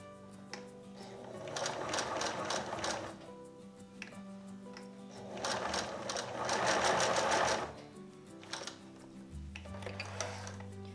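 A sewing machine stitches a curved seam in two long bursts of rapid, steady needle clatter with quieter pauses between them, ending on a low hum.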